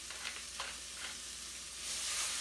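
Mushrooms and onions sauté in a pan with salt and cracked pepper, giving a steady, soft sizzle that holds at an even level with a few brief stir clicks and swells slightly toward the end, with no voices.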